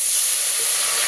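Water poured into a hot tempering for drumstick leaf rasam, a loud hissing rush of steam filling the whole moment, no talk.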